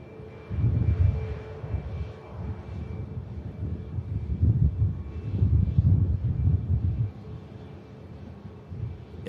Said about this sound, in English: A350 departing in gorgeous lighting.